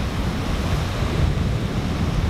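Ocean surf washes steadily at the water's edge of a beach at low tide, a continuous close roar of breaking waves with some wind buffeting and no voices.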